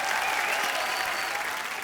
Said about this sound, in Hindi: जोरदार तालियां एक बार वैभवी मर्चेंट के लिए।